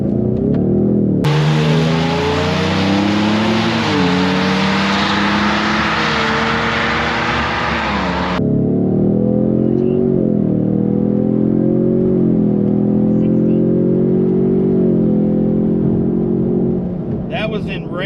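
2023 Ford Mustang EcoBoost at a drag strip: a loud four-cylinder roar rises through the gears as the car launches, with an intense hissing burst early on and a steady engine drone continuing afterward.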